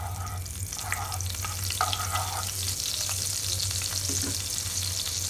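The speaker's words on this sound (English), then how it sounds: "Our oil is nicely heated up, so put 1 dollop of butter or makhan." A dollop of butter melting and sizzling in hot oil for dhaba-style egg bhurji, a continuous close crackling sizzle with a few scraping stirs and a low steady hum beneath.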